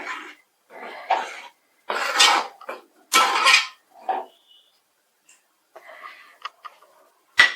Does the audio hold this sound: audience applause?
no